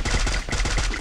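Rapid bursts of automatic gunfire from a battle royale shooter video game during a duo ranked match, dense and loud, crackling continuously for about a second.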